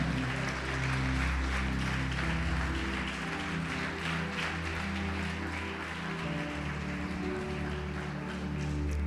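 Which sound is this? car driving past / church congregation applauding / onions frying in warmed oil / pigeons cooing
church congregation applauding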